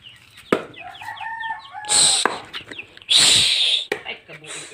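Farmyard chickens cluck in short, close calls while a rooster crows loudly in two drawn-out bursts, with a voice speaking faintly between them.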